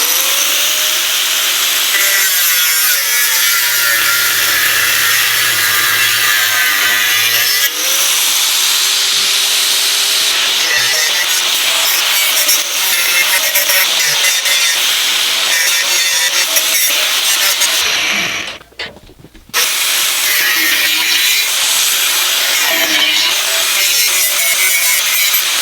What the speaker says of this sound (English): just going to cut these flanges, like I said, off the radiator now